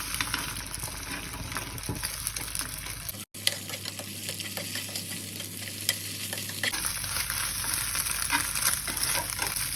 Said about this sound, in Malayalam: ആദ്യം മുട്ട വറുത്തെടുക്കണം